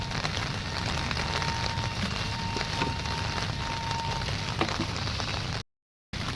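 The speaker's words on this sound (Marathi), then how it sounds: "पाऊस आता मस्तपैकी यायला लागला" Steady monsoon rain in Boisar, India falls in a constant hiss, with scattered drips and patters nearby, cutting out abruptly near the end.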